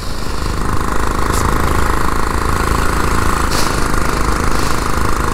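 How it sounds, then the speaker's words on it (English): A vintage 1947 Whizzer Model H motorbike engine rumbles steadily up close, a loud, dense, rapid-firing chug with a few brief higher rattles, running alone without talk. "It's got a good little rumble to it. This motor feels solid."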